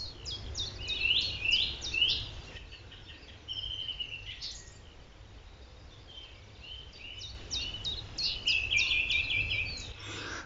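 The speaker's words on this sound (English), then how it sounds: "a very obvious chiff-chaff song" A chiff-chaff sings repeated high two-note phrases in a wood, with a song thrush's repetitive phrases alongside, clear and fairly close over a low steady background hum.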